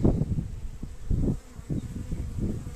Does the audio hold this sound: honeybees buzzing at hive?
yes